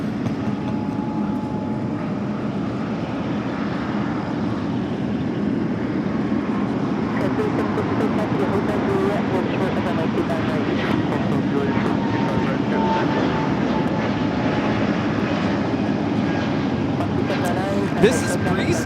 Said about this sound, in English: This is Breeze Airways Flight 709 taking off to Pittsburgh on the A220-300.